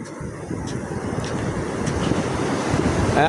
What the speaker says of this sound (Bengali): এদিকটাতে একটু ঢেউ বেশি থাকে